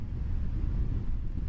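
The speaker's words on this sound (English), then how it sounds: "Very windy, and there's a heavy mist on the air, which the wind is just whipping along." Strong wind buffets the microphone on a misty, stormy day in the wild, a steady low roar with no pauses and no voices.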